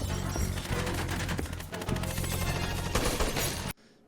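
Dense, loud burst of rapid gunfire in a film shootout scene, with sharp cracks and a window shattering, sustained for several seconds before cutting off abruptly into near silence.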